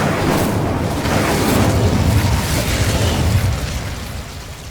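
An Incendio fire spell cast in Hogwarts Legacy, a loud whooshing burst of flame that roars steadily for a few seconds before easing off.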